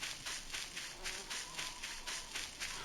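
Bees buzzing in the game Voices of the Void, a steady high drone that pulses in regular bursts about every quarter second, continuous and fairly faint with no voices over it.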